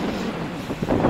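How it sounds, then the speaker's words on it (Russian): Gusty wind buffeting a microphone, a steady low rumble that swells louder near the end, with no voices. "Ветер какой."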